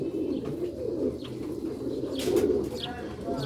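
Sialkoti black-faced pigeons coo in low, throaty rolling calls that repeat near at hand, with faint chirps and some background voices mixed in.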